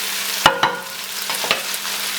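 Butter frying in a pan for pork fried rice, a steady soft sizzle with a few sharp clinks of a utensil against the pan, no voices.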